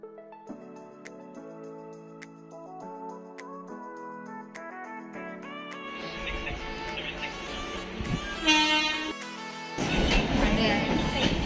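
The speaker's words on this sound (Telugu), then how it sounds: "ఇప్పుడే ట్రైన్ స్టార్ట్ అయింది గైస్" A passenger train pulls away from the station on the way to Karnataka, a steady rumble and clatter growing louder over the last few seconds beneath tuneful music.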